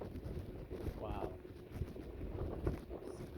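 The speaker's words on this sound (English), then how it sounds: "It's crazy windy." Strong outdoor wind buffets the microphone in a low, continuous rumble with irregular gusts, while people talk over it.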